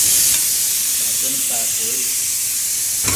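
Masala spices sizzle and hiss steadily in a hot pan for an egg curry, a continuous broadband frying sound with faint voices murmuring partway through.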